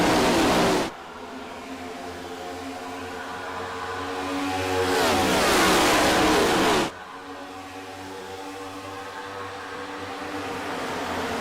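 Stock cars racing in the Sno-Belt Industries 125 near Chicago, a steady engine drone with harmonic whine that swells as a pack passes close around the middle, then settles back to a continuous roar.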